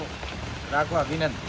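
Steady rain pours down outdoors in Goregaon, a dense, even hiss that runs throughout while a person speaks over it.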